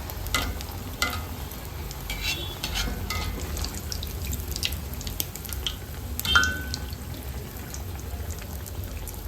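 Rava malpuri frying in hot oil while oil is ladled over the top, giving a continuous close crackling sizzle with scattered pops and light pouring splashes throughout.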